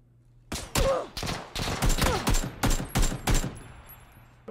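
Rapid gunfire in the PUBG video game, a string of about ten sharp, loud shots at uneven intervals, each ringing briefly, ending with a fading echo.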